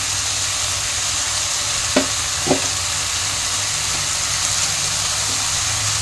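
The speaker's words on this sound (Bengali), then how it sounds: "ঝিঙে আর আলুটা কষতে কষতে জল বেরিয়ে গেছে" Ridge gourd and potato pieces frying in a pan give a steady close sizzle, broken by two brief stirring scrapes near the start.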